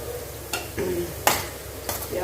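Hot oil bubbling and sizzling in a pan while vegetable pickle is being made, with sharp crackling bursts rising over a steady low hiss, close and fairly loud.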